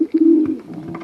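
A pair of pigeons coo up close, with a low throaty burble swelling in two soft bursts and then trailing off into quieter murmuring.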